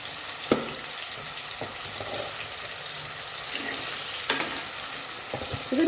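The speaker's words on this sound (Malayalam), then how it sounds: "എല്ലാ കഷ്ണങ്ങളും നമ്മൾ ഒരുമിച്ചിട്ട് തന്നെ നമ്മൾ ഫ്രൈ ചെയ്തെടുക്കാറുണ്ട്" Tuna pieces frying together in a pan, a steady close sizzle running throughout with a few sharp clicks and scrapes scattered through it.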